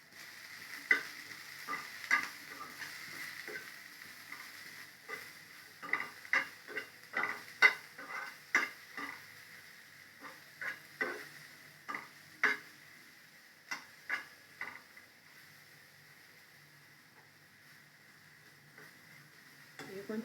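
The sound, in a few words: brinjal pieces frying and being stirred in a pan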